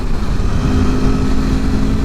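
A 2021 Aprilia Tuono motorcycle is heard while riding as a loud, steady engine drone mixed with rushing wind noise, continuous for a couple of seconds without talking.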